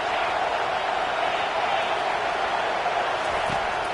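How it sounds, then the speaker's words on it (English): A football stadium crowd roars in support of the home defense, a dense, continuous wall of cheering that stays loud and unbroken from start to finish. "Listen to this crowd just shaking the girders of this place,"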